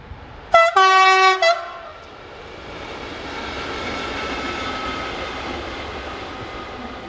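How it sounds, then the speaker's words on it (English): A pair of locomotives, 69484 and 69404, hauling an engineer's train, sound a loud multi-tone horn blast of about a second, then a rising rumble as the train approaches and passes. "Heading north we see 69484 and 69404 returning north after earlier working south with an engineer's train"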